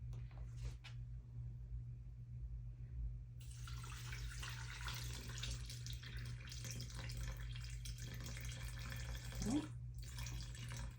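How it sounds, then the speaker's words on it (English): Tap water runs steadily into a container while sourdough dough is being mixed, the broad rushing flow starting a few seconds in and continuing under a low background hum. "I'm gonna have to put more water in my."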